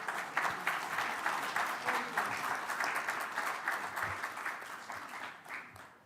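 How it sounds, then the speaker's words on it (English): Many hands clap in a sustained, even roar of applause from a conference audience at the Indian Ocean Conference in the Maldives, honoring an ambassador's token presentation, tapering slightly near the end. "A loud applause, please."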